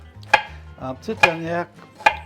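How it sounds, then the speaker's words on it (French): A kitchen knife slicing onions into thin strips for a spinach and sun-dried tomato pasta: three crisp, close chops on a board with brief ringing between them, no talking. "En petites lanières comme ça, nos oignons."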